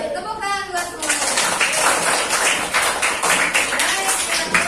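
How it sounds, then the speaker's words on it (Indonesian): Schoolchildren in a classroom break into quick, rhythmic clapping after a brief spoken word at the start, the patterned claps carrying on close and fairly loud to the end. "Tepuk tangan buat semuanya."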